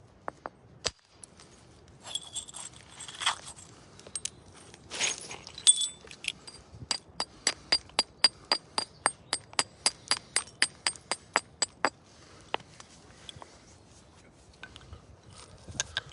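Sharp flint knapping knocks, a hammerstone striking flint, ring out, scattered at first, then a quick regular run of crisp strikes, near and clear in a quiet space.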